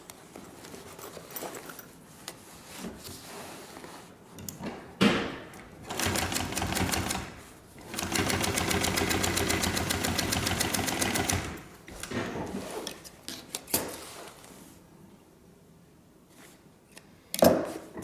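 A sewing machine stitches a half-inch seam on a homemade backpack in two loud, rapid mechanical bursts, with quieter handling and rustling between them.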